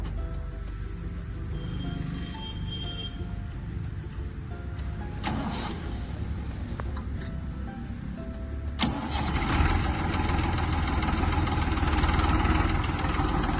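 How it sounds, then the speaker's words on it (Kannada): A Massey Ferguson 1035 DI Planetary Plus tractor's diesel engine cranks, catches and settles into a steady, loud, close idle that grows louder and rougher toward the end. "ಈ ಟ್ರ್ಯಾಕ್ಟರ್ನ ಓಡಿಸಿ ನೋಡೋಣ"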